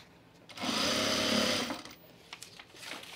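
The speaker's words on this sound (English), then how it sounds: "we're just gonna sew along this top edge here" A sewing machine stitches along the top edge of a chino pants waistband, enclosing belt loops: a steady mechanical whir lasting about a second, fairly quiet, then stopping with faint handling noise after.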